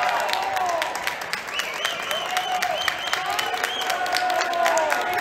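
A crowd at a Grand Valley versus MSU sports match cheers and claps steadily, with scattered shouts rising through the noise as a commentator talks over it.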